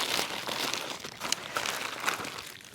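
A plastic bag holding dishwashing soap crinkles up close in short, irregular bursts of crackling rustle lasting a few seconds, with no talking.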